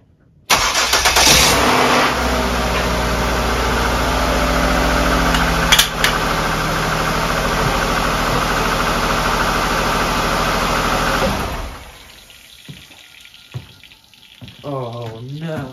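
A deer-damaged car's engine is started: a sharp crank catches into a loud, steady idle that runs for about ten seconds, then cuts off abruptly, leaving faint clatter and a brief voice.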